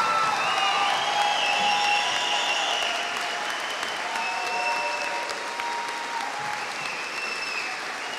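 An audience claps for educators being honored at an Educator of the Year ceremony, loud dense applause throughout that eases slightly toward the end, with some faint tonal sounds above the clapping.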